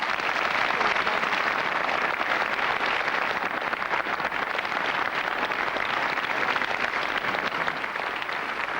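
Sustained applause from a French television studio audience, dense and steady throughout at full loudness with no talking over it.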